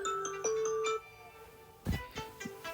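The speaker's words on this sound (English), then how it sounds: "My alarm's going off." A phone alarm rings out in a melodic ringtone, a quick sequence of bright electronic tones followed by a pause and then a louder burst of ringing at moderate volume, with no talking.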